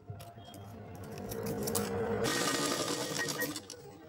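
A sewing machine runs steadily as it stitches a garment seam, starting with soft clicks and handling noise and building into a close, continuous mechanical whir.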